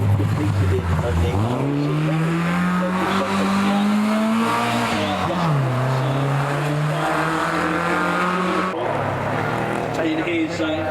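WRC rally car at the Prescott speed hill climb, powering up the hill with a passenger aboard: a loud engine note climbs steadily through the gears, dips at a shift and rises again, with a voice talking over it.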